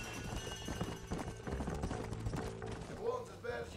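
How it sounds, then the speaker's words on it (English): A horse's hooves pound in a quick galloping rhythm in the video game Red Dead Redemption, fairly quiet and with faint voices in the background. "Come on, hop on the goddamn horse, man."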